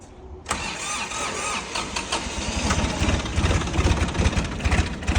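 An imported Japanese vehicle's engine is cranked on a first start attempt, catching abruptly into a loud, rough running roar that stays steady and close for several seconds with no talk over it.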